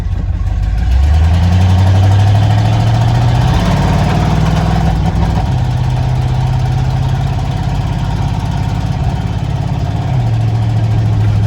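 A loud truck with a carbureted Holley four-barrel engine idles with a deep, rumbling exhaust, revving up briefly early on and then settling back into a steady, throaty idle.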